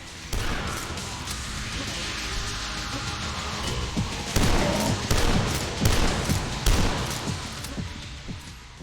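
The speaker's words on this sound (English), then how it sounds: "this is the best sounding super shotgun I've ever heard" Super shotgun blasts in the retro shooter game Dusk, a loud dense barrage of booming shots and crashing impacts over steady roaring game noise, firing repeatedly in quick bursts.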